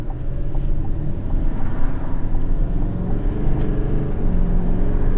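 A 2024 Chevrolet Silverado 2500 with a Duramax diesel accelerates hard, a deep steady engine drone and rumble heard close up from inside the cab, continuous and loud, with no voices.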